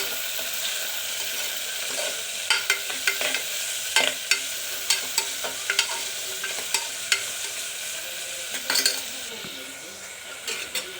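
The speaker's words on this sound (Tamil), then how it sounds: "இதையும் நல்லா இப்போ வதக்கிக்கலாம்" Tomatoes are sautéed in a pan, a constant sizzle close by punctuated by frequent sharp scrapes and taps of a spoon stirring against the metal.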